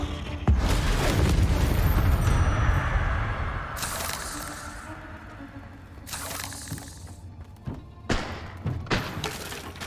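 Confringo fire spell in the Hogwarts Legacy video game, a heavy thudding blast with crackling debris, followed by sharp whooshing bursts and shattering impacts spread over several seconds.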